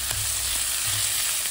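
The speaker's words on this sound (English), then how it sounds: "make it tempering, and also we are adding some the cumin seeds" Cumin seeds and turmeric powder sizzle steadily in hot oil in a pan while tempering spices for an eel curry, a close, continuous frying hiss with no talk.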